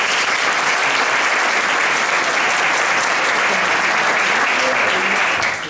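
Loud, sustained applause from the audience at an industrial engineering awards gala, a thick, even roar of many hands that holds steady for several seconds before tapering off at the end.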